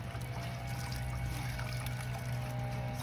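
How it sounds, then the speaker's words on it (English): Freshly dyed clothes are rinsed in cold water, giving a continuous sloshing, pouring and trickling of water with a steady low hum beneath it and no pauses. "I'm going to take them out and rinse them in some cold water"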